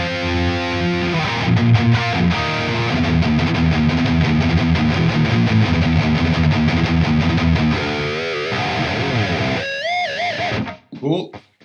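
A heavily distorted electric guitar plays a chugging rhythm riff through the JST Toneforge Disruptor amp-simulation plugin, loud and continuous, before breaking off into a few short squealing notes at the end.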